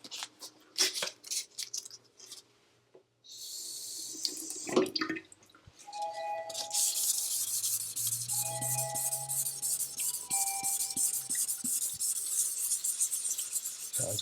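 Wet 1000-grit sandpaper rubs over an epoxy stone countertop repair in uneven scrubbing strokes, close and fairly quiet, with pauses and faint background sounds in between.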